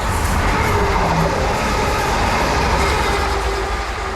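A train rushes through a station platform in Cambridgeshire, a loud, steady roar of wheels and rails held close for several seconds.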